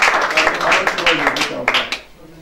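A church congregation claps and applauds during a French worship service, with loud cheering voices blended into the clapping over about two seconds before it fades.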